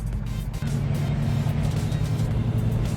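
A 1971 Plymouth GTX muscle car engine rumbles steadily and loudly while driving, with a deep, continuous low-end drone throughout.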